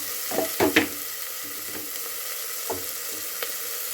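Beans, carrots and peas tipped into a hot frying pan, giving a broad steady sizzle with a few louder bursts of clatter and stirring early on, then a settled hiss throughout.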